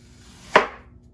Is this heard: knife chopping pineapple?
yes